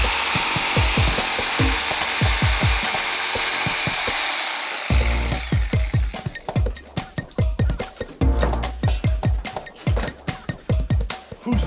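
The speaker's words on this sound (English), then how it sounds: "we should cut our backer board for the floor" A power saw cuts cement backer board for a tile floor, first as a continuous loud grinding whine that gives way to choppy, rhythmic cutting bursts.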